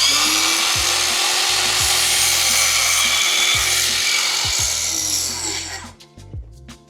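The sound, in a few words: DeWALT battery-powered saw cutting PVC miter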